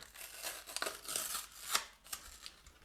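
A Pokémon booster pack torn open by hand, close and quiet, with crisp ripping and crinkling foil in short, uneven bursts.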